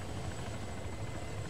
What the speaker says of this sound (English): the other chopper had lost rotors